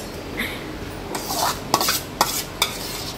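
A spoon stirs crushed custard apple pulp into cooled, thickened reduced milk in a metal pot, giving soft scraping swirls and a few sharp clinks against the side, close and clear with no talking.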